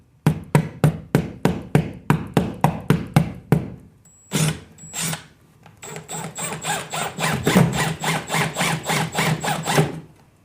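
Screws and drywall anchors going into drywall to mount acoustic panel brackets: a run of sharp, regular hammer-like taps, a brief squeal, then a steady rhythmic stretch of close, loud fastening strokes, with no talk.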